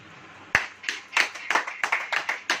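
A church congregation clapping in quick, slightly uneven bursts, a dozen or so close claps in a short run with no speech over them.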